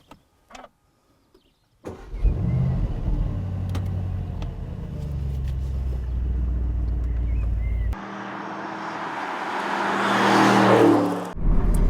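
Aston Martin Vantage Roadster being driven, with a door thud and engine start followed by a steady, loud low engine drone, then a brighter surge of wind and engine noise as it picks up speed.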